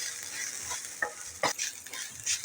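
Onion, grated coconut, ginger and garlic dry-roast in a pan for a traditional Maharashtrian mixed vegetable dish, giving a faint, quiet sizzle broken by a few soft scraping stirs of a spoon.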